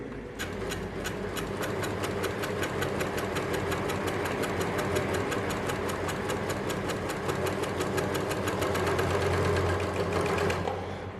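A sewing machine runs steadily for about eleven seconds, its needle and built-in trimming blade hammering in a fast, even rhythm while fabric is fed around a curve for elastic-waistband pants. The sound is close and loud with no talking.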